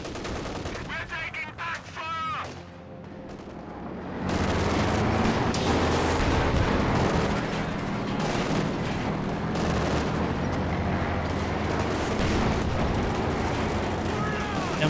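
Pack howitzer artillery in the video game Company of Heroes 2 booms and crackles as part of a dense, continuous battle din, with sharp early shots followed by a loud, sustained wash of gunfire and explosions.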